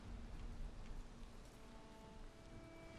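Steady rainfall in the Valheim video game, a soft continuous hiss of pattering drops, even and unbroken, quiet and without voices.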